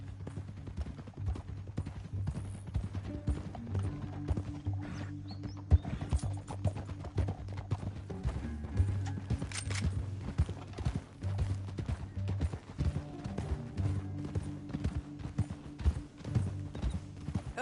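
Horses' hooves clip-clop steadily in a video game as riders travel together, with occasional whinnies and neighs over a low, droning musical backdrop.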